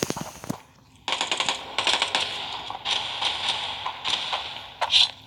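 FAMAS rifle in the mobile shooter Standoff 2, firing in rapid short bursts of sharp cracks separated by brief pauses, loud and close with no talk.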